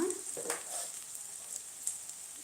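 Onions frying in a pan for lemon rice, a soft steady hiss of sizzling oil with a couple of faint stirring scrapes near the start, quiet and without talk.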